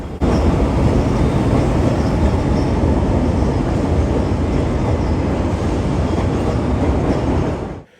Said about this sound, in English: we were shocked by an unknown destination CTA Pink Line train